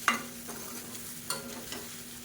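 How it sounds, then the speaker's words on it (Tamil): A spoon stirs mint masala filling for kozhukattai in a pan, making a few distinct close scrapes over a low, steady sizzle. "சேர்த்து நல்லா எல்லாமே குழந்து வர மாதிரி பரட்டி விட்டுக்கணும்"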